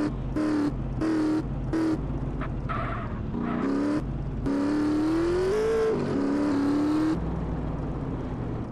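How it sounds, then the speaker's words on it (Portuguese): Motorcycle engine in GTA San Andreas revving hard during a quick wheelie, repeated throttle bursts with choppy gaps, then a sustained rising whine, loud and close, with no speech. "Caraca, esse Jacob empina rapidinho essa moto"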